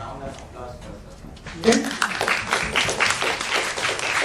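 Applause breaks out from an audience at a brain and mental health talk, a burst of mixed clapping that starts abruptly after a moment of voices and continues steadily.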